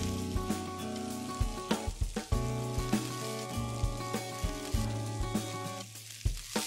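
Carrots, beans and green peas sizzle steadily in a pan while cooking a vegetable masoor pulao, a continuous frying hiss heard beneath prominent background music.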